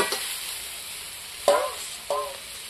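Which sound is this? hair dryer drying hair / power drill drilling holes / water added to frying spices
water added to frying spices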